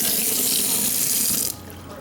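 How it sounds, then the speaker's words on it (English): Water runs steadily from the faucet into the sink of a 2022 Cougar 290RLS RV, a loud close rush that cuts off abruptly near the end, leaving a quieter hum from the running water pump. "The water pump's working fine."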